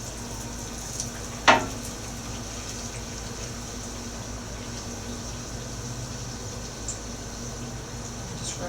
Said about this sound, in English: Just fry it up. Make sure your grease is nice and hot.